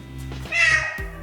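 A single drawn-out meow echoes inside a cave, close and clear, probably a person's voice imitating a cat, with brief low voices around it.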